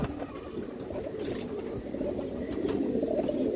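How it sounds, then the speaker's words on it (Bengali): A ring-eyed pigeon with a boot-shaped beak gives low, throaty coos up close, steady and unbroken over a busy, noisy background. "এই দেখেন রিং চোখের কবুতর দর্শক"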